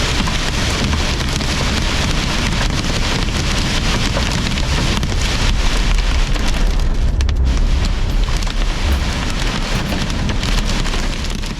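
Heavy rain pours steadily during a storm chase near a possible tornado, a loud dense roar of drops drumming on a surface, continuous and close with a low rumble beneath and no voices.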